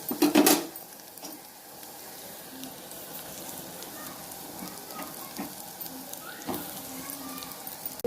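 Raw plantain pieces tumble into a pan of softened, browned onions with a brief clatter at the start, then a steady hiss of frying continues underneath with occasional light scrapes.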